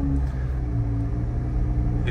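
A Jeep Gladiator Rubicon's inline six-cylinder engine idles steadily, rumbling continuously with a deep even drone and no changes in pace.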